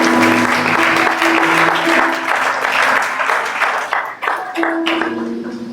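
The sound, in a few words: congregation applauding to acclaim Jesus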